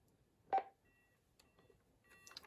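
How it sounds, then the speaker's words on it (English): Telephone keypad tones dial a number through a PBX on a vintage AT&T 210 phone: a loud initial beep followed by several short, fainter tones spaced irregularly, close and clear with no talking. "I'm going to call up another phone number on this thing"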